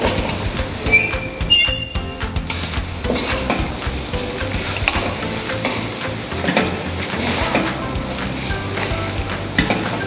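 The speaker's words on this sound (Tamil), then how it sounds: "ஸோ இப்போ நான் ஊற வச்ச மட்டனை போட போகிறேன்." Marinated mutton for biryani hitting a hot pan, loud continuous sizzling and frying with stirring clatter and a few metallic clinks, close up and without talk.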